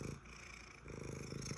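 A pet cat purring steadily up close, a soft continuous rumbling drone that pulses gently with each breath, heard alone and fairly quiet.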